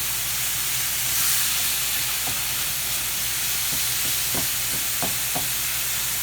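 Ground hamburger and onions sizzle in a pan for quick goulash, a steady frying hiss with scattered scraping taps as a utensil breaks up the meat.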